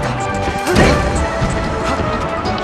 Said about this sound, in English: Fox up smashes the needle.